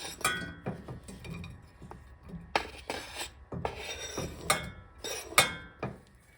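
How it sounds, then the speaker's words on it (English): Fresh strawberries tipped into a pan for jam, with soft thuds and light clinks of metal and glass coming in scattered bursts, fairly close, and no talking. "I'm going to go ahead and add these to my pan"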